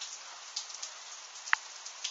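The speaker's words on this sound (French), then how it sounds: "Ah, c'est de la pluie, là." Rain from a sleet shower in Tour-en-Sologne, France, falls as a soft, faint, steady patter, with a few slightly sharper drops tapping close by.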